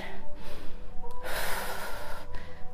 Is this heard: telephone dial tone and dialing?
no